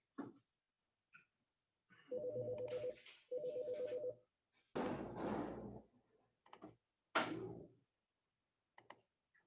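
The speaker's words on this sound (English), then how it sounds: "Oh, I got a phone call." An incoming telephone call: two long electronic ringing bursts in quick succession, followed by clicks and handling noises nearby in a quiet room.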